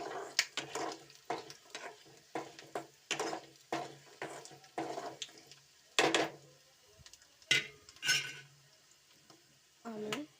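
Chana dal, urad dal and peanuts being dry-roasted in a pan, with repeated scraping and stirring strokes in a steady rhythm, close and fairly clear, with no talking.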